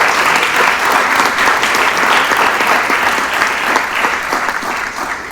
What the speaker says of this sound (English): Let's give them a round of applause right back over here.